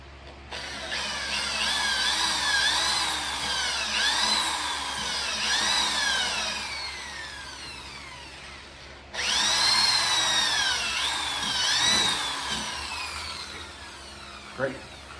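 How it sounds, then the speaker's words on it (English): A power drill bores into stone during carving work, whining in two long bursts with rising and falling pitch and a short pause between them, loud and close. "And then I'll drill a hole."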